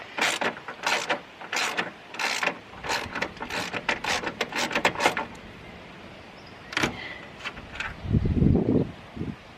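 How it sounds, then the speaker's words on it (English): Gusty wind buffets the microphone in rough bursts outdoors beside a Subaru Impreza STI engine bay, with scattered rustling and a low rumble near the end. "Oh, it's windy as all sorts of hell"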